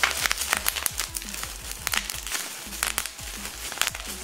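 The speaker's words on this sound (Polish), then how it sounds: "folia blokowa." Bubble wrap being handled and crinkled while a speedstacking mat and timer set is unboxed, with close, irregular crackling and crumpling bursts that run throughout and vary in loudness.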